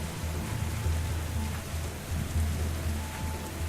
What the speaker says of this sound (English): I think this rain is just about to be snow